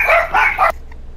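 Dogs bark in the Arma 3 co-op video game, a quick run of two or three sharp barks at moderate loudness, heard alone.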